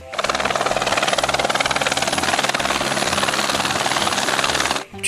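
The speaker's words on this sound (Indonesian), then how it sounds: "Lihat helikopter warna merah ya teman-teman." A helicopter's rotor chops rapidly and steadily at close range, loud and continuous before cutting off abruptly near the end.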